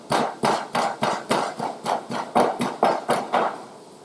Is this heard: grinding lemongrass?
yes